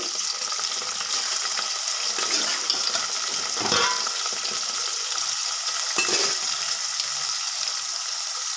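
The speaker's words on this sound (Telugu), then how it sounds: "మనము ఉప్పు వేసుకున్న మటన్ను కూడా వేసేసి బాగా ఆయిల్లో ఫ్రై చేసుకోవాలి" Salted mutton pieces and onions with a ground paste fry in oil, giving a steady close-up sizzle with occasional scraping stirs.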